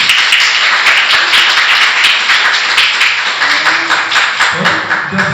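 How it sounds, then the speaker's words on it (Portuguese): A church congregation at a couples' service applauds a couple married 54 years, giving a loud, dense, steady wash of clapping, with a few voices emerging near the end. "a gente vai receber eles com uma salva de palmas"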